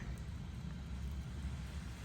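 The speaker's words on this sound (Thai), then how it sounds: "ต้องมาใช้สปริงเกอร์ช่วยในการรดน้ำดู" Garden sprinkler watering outdoors during a dry spell, a steady low rushing spray of water with a dense hiss, constant and moderately close.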